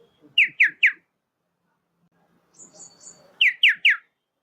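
Birds answer imitated calls outdoors with two bursts of three bright, clear whistled notes, separated by a pause with faint softer chirping and a brief thin tone. No speech is present.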